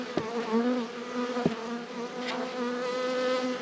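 Honeybees buzzing steadily and close during a spring hive inspection, a dense continuous drone with a couple of sharp knocks as frames or the box are handled.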